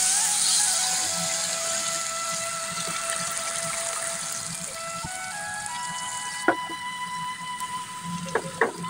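Malabar spinach seeds and potatoes are tipped into a pan of frying spices and green chilies, then stirred, giving a steady wet sizzle with a few sharp clinks of the spatula near the end.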